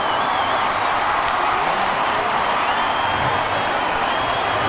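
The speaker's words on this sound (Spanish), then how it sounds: "Un aplauso para ella." Audience applause and scattered cheers during the opening proclamation of Zaragoza's 1998 Pilar festival, a steady, fairly distant wash of clapping.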